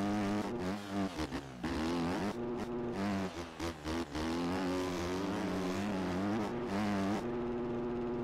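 A dirt bike engine in the MX Bikes game revs hard and continuously, climbing and dropping in pitch through gear changes and throttle blips, loud and close with no talk.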